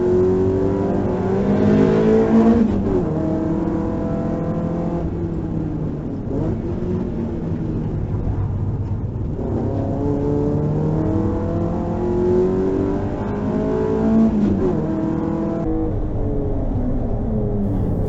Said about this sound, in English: I take turn 4 wide as Ben charges through in the Evo.